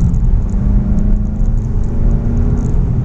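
Engine of a VW Golf GTI MK7.5 after a downshift, heard from inside as a loud steady low rumble and whir with no change in pitch.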